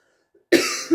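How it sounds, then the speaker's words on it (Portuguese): A single short, loud, close cough bursts out after brief near-silence, followed by a small second exhale. "eu tô com uma tosse"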